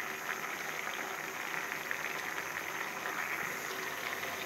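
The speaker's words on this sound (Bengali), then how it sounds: "আমাদের আলুগুলো সিদ্ধ হয়ে গেছে" Potatoes bubbling away in an uncovered pot of water, a steady, even simmering hiss with soft bubbling that carries on without a break.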